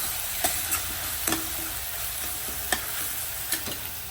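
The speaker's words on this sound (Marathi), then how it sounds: "हे पूर्ण मिक्स करून घेऊया" Masala methi is stirred in a pan, with a spoon scraping in quick irregular strokes over a soft, steady sizzle.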